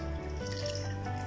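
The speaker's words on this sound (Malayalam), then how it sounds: "ഇനി നമുക്കിതിൽ ശർക്കര നീര് ഒഴിച്ചു കൊടുക്കാം" Warm jaggery syrup poured in a steady trickling stream into ground rice batter in a grinder for Kerala-style unniappam, a continuous watery flow heard up close with no talk.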